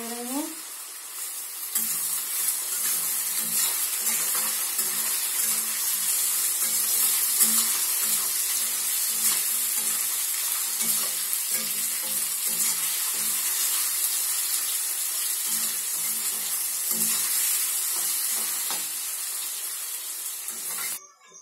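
Thinly sliced potatoes frying in a pan with cumin seeds, giving a loud, continuous hissing sizzle that holds steady for the whole stretch with no voices over it.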